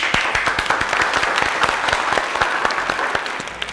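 Steady, dense applause from a crowd, many hands clapping continuously at an even level throughout with no talking.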